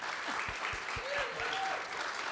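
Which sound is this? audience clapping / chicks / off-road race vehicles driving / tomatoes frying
audience clapping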